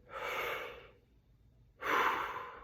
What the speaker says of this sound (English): First one, nice deep breath in.